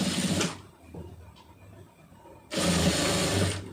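A sewing machine stitching a blouse, running in two fast rattling bursts with a quieter pause between them, close and steady.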